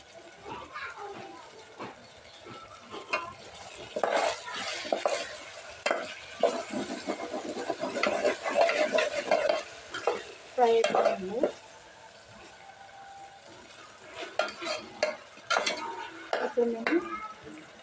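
Tomatoes frying in a home kitchen pan, with soft sizzling under repeated stirring and the clink of a utensil against the pan, rising and falling in bursts over the whole stretch.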